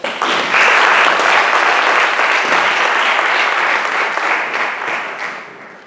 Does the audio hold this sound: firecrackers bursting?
no